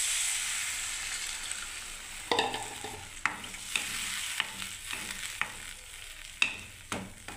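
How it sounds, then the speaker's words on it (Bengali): Water goes into a hot pan of potato and paneer curry, starting a bright sizzle that fades under repeated sharp scrapes and knocks of a spoon stirring, heard up close. "এবারে আমি একটু জল দিয়ে দিচ্ছি"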